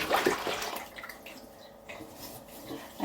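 An air fryer part being washed in hot soapy water, with splashing and sloshing close by that starts loud and settles into steady swishing.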